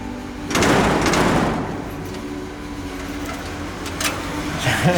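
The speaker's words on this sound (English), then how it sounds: "do you know how to open a door, bro?" A heavy door in an Egyptian temple is pushed open with a loud scraping, grinding rumble lasting a few seconds, followed by quieter rattles and faint voices.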